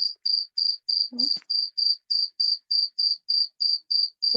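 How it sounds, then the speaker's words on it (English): A cricket chirps in a steady, evenly spaced rhythm of about fourteen short high-pitched pulses, clear and close, with a brief low knock partway through. "there's a cricket"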